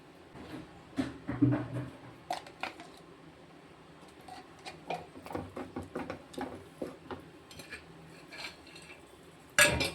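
Ghee is poured and stirred into thick banana leaf halwa in a metal pan, heard as a scattered run of scraping and clinking as a utensil strikes the pan, close and fairly faint, with a sharper clank at the end.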